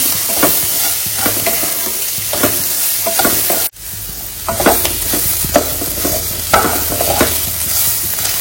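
Fish is fried and stirred with turmeric powder in a pan, a loud continuous sizzle broken by repeated scraping stirs of the utensil and one brief cut near the middle.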